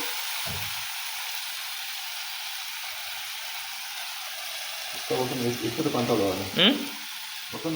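Onion, tomato and mustard paste frying for a dried-fish curry give off a steady, close sizzle that runs throughout, with a voice talking over the last few seconds.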